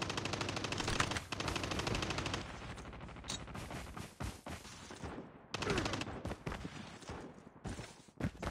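Rapid automatic gunfire from Call of Duty Mobile on the Alcatraz map, loud bursts filling the clip with brief pauses and scattered single shots in a game firefight.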